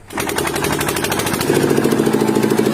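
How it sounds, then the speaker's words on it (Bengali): Generator engine noise plays loudly from a phone, a steady, fast chugging drone that starts abruptly and grows slightly stronger. "বৌদির ফোন দিয়ে তো জেনারেটর মেশিনে আওয়াজ বেরোচ্ছে"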